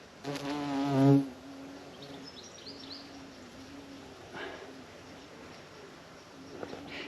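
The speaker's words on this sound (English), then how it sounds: "Big juicy bumblebees doing the work." Bumblebees buzz around a bug hotel in a garden, with one close drone rising and fading in the first second or so, then fainter intermittent buzzing against quiet outdoor ambience and a few distant bird calls.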